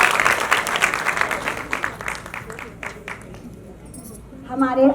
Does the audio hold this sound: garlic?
no